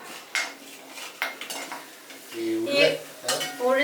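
Urad dal roasting in a pan with a metal spoon scraping and clinking against the pan, steady stirring over a soft sizzle, close and fairly loud, no talking.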